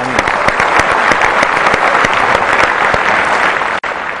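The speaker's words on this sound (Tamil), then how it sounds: "நான் விஜய் சார்கிட்ட பேசும்பொழுது" A big, loud, dense round of applause from a studio audience at a televised Tamil entertainment show, sustained and continuous with a brief dropout near the end.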